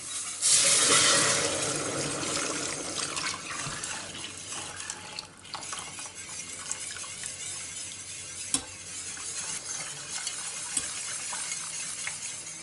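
A spoon stirring creamy mushroom soup in a pot on the stove, soft scraping and liquid swishing over a low simmering hiss, louder at the start then settling into quieter, intermittent stirring strokes.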